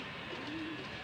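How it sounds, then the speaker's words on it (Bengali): A breeding pair of Kamagar pigeons coos softly for about a second, a low, faint murmur heard alone with no talk. "খুব সুন্দর এক পেয়ার কামাগার কবুতর, রানিং সেট।"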